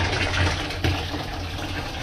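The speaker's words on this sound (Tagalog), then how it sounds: "Ayun yung tubig ng submersible." Water gushing from a submersible pump at a farm fencing project in Bulacan, a loud close steady rush of flowing water with a brief splash partway through.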